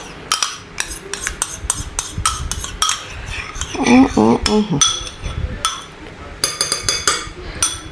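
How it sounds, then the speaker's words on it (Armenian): Spoon clinks against a bowl while cheesecake batter is mixed after sour cream is stirred in, scattered sharp taps and scraping throughout, with a brief voice midway. "Թթվասերը ավելացրեցինք, խառնում ենք նորից։"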